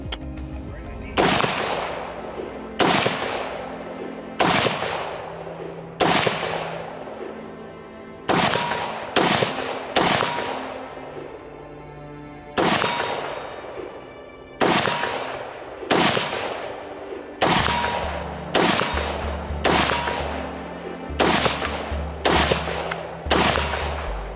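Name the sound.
Dark Storm DS15 firearm gunshots, 5.56 and 9mm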